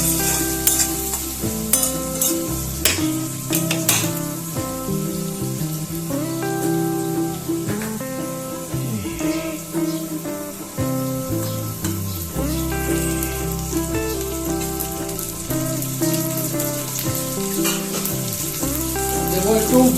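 Food sizzles steadily in a hot pan while a utensil stirs and scrapes through it, close and continuous over a tonal background.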